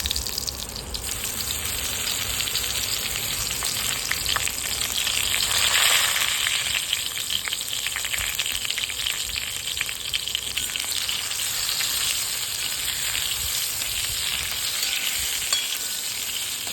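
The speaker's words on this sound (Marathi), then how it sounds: "तेल तापलं की आपल्याला त्याच्यामध्ये वांगे सोडायचे" Eggplant pieces frying in hot oil, a steady loud sizzle that swells for a few seconds after they hit the pan and then settles into a continuous crackling hiss, close up and without any speech.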